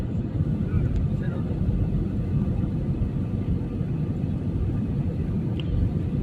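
Cabin of a passenger plane descending toward landing, a constant low engine rumble and airflow roar filling the space evenly, with a voice talking over it now and then.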